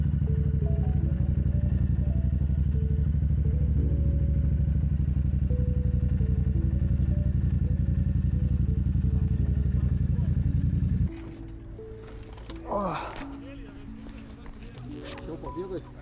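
Yamaha MT-07 motorcycle engine droning loud and steady at a Kaunas motorcycle meetup, then cutting off abruptly, leaving quieter crowd noise, clatter and voices of people talking.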